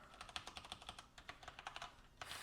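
Rapid typing on a computer keyboard, a steady run of crisp close-up key clicks with uneven rhythm and no talk.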